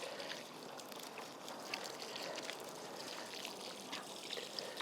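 A garden hose pours water onto soil in a circle garden bed, making a steady, hissing, trickling wash that stays even throughout.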